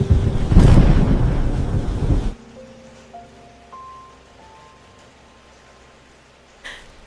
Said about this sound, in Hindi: बर्फ जैसी ठंडी हवाओं के साथ तेज आंधी और तूफान चलने लगा